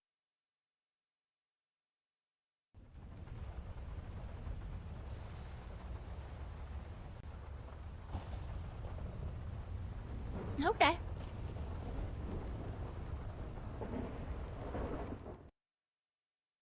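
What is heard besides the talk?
thunder and rain in a thunderstorm, from the video game RedlineRP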